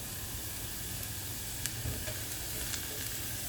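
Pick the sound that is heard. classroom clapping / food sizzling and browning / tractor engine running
food sizzling and browning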